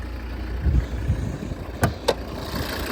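A Volvo V60 D3 five-cylinder diesel engine idles steadily with a low rumbling hum, accompanied by a couple of brief sharp clicks.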